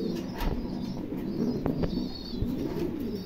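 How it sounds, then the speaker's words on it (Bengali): Pigeons cooing softly in a garden loft, a pair with a few low murmuring coos and light rustles against a steady background hiss. "দেখছেন চমৎকার একজোড়া কবুতর"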